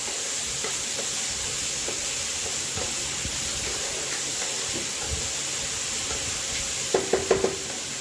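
Boiled chickpeas simmering and being stirred over a low flame, a steady, quiet sizzling hiss with faint occasional scrapes, then a quick burst of clinks from a utensil near the end.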